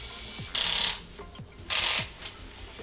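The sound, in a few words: Lego bulldozer 42030 scooping mechanism moving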